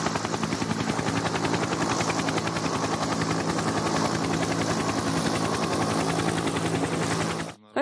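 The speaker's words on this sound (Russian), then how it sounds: "Пилоты-виртуозы удерживали вертолет в 5 сантиметрах от поверхности льдины." Rescue helicopter hovering just above an ice floe on Lake Baikal, its loud, steady rotor chop pulsing evenly throughout before cutting off abruptly at the end.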